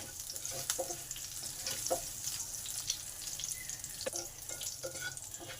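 Nigella seeds and green chillies fry in hot oil with a steady sizzle, punctuated by a few clinks and stirring sounds, with no one speaking, before chopped onion is added.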